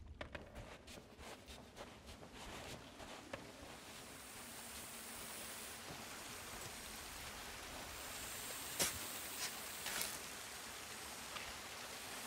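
A waterfall in the Sea of Thieves pirate game pours as a steady, broad rushing hiss that stays constant throughout, fairly soft, with a few faint clicks and knocks on top and no speech.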